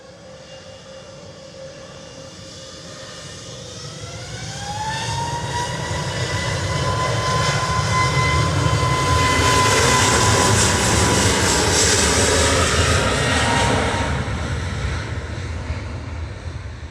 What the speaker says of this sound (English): So got EasyJet just about to line up in front of us, going to Lisbon.